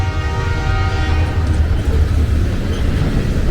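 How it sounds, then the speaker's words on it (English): A long freight train crossing the Canadian prairies carries cars and stacked containers. It rumbles past loud and close, its steady rolling roar joined by a sustained horn tone. "So here comes the one of the many goods trains"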